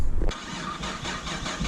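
A non-running project car's engine cranks and catches, then settles into a rough, steady idle.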